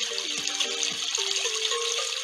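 Water fills and pours from an eggshell in a cartoon dinosaur watering-hole game, heard as a soft running trickle with bubbly gurgles and rising and falling tonal splashes, steady and moderately quiet.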